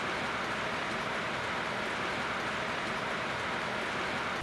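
Monsoon rain pouring steadily in the hills of Kodaikanal, a dense, even hiss of falling water with no breaks, moderately loud and close, no voices.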